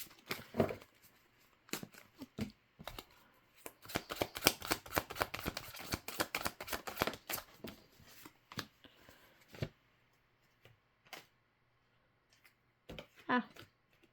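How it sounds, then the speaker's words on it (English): Playing cards are shuffled in quick riffling bursts, a dense crackle of snapping cards, then a few scattered flicks as the shuffle winds down. "I'll shuffle these. I feel like shuffling them in."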